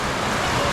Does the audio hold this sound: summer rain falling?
yes